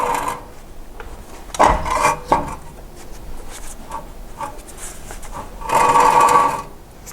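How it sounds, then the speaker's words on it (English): Wheel rubbing on a BMW M3 after a big brake upgrade and coilovers, with repeated scraping, grinding swells recurring over several seconds and the loudest bursts near the start and end, no talk. "Except I do hear rubbing."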